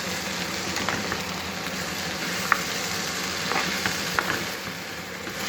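Steamed mixed vegetables are stirred in a pan, with a steady soft sizzle and occasional light scrapes and taps of a spoon against the pan, heard alone and close.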